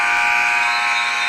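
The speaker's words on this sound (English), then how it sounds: "not going to get that one to go before the buzzer sounds" An end-of-quarter buzzer blares in a women's college basketball game, one steady loud tone held for over a second with no talk over it.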